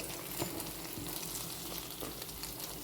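Banana fritter batter (ethakka appam) frying in hot oil, a steady dense sizzle and crackle throughout, close and even, with no voices.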